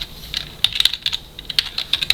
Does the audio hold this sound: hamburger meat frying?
no